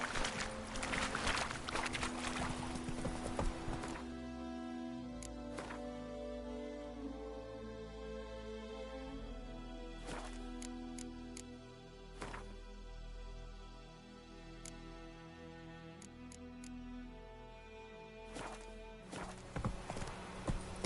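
Horse hooves clip-clop along at a steady gait in The Witcher 3, a rhythmic mid-distance pattern over continuous game ambience and music, with a few sharp knocks scattered through.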